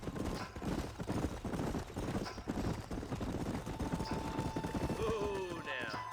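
Horses' hooves clip-clop steadily on a trail in Red Dead Redemption, a rhythmic patter under game music and character voices, with a faint horse whinny near the end.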